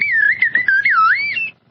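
A slide whistle imitates the beeping, warbling chirps of the R2-D2 droid from Star Wars, a close, bright gliding tone swooping up and down for about a second and a half before stopping.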